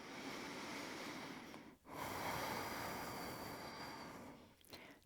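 A deep, steady inhale held in a crescent yoga lunge, a long close breathy rush broken by a short pause, then a second breath.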